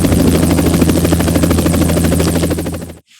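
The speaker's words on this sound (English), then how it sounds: "Helicopter." A cartoon helicopter flies with a loud, steady chopping rotor and buzzing engine, close and continuous, then cuts off abruptly near the end.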